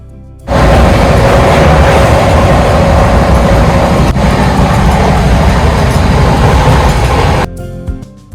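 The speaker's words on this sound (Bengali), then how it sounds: "ট্রেন কিন্তু এর মধ্যেই একশো তিরিশ স্পিড ছুঁই ছুঁই করছে" Howrah–Ranchi Shatabdi Express running at about 130 km/h, heard from inside an AC chair car: a loud, steady rumbling roar of the moving train that starts suddenly and drops away at the end.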